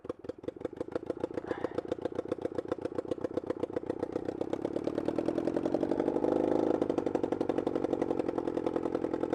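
A motorcycle engine pulls away in second gear, its rapid regular firing pulses close and loud, rising steadily in pitch and strength as it accelerates, with no talk over it.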